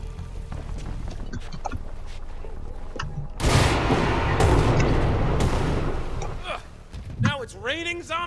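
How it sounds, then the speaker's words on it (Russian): Gunfire and explosions on a rooftop in the video game Dead Island 2, a dense burst of loud booms and shots lasting a few seconds, followed by a voice talking. "Взрывы на крыше"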